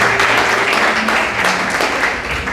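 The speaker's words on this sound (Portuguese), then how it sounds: "Será que você pode aplaudir o Senhor nessa noite?" A church congregation claps steadily through a Sunday worship service, a dense, continuous wash of hands with faint musical tones running underneath.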